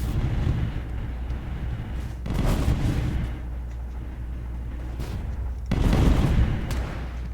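Spaceship weapons on auto fire in The Last Federation, a space strategy video game: a dense, rumbling stream of heavy fire with three louder swells, continuous and near, with no talking.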